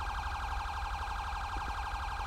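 Continuous fast-cycling police siren from a GTA V patrol car, loud and close, droning on over a low vehicle hum with no voices.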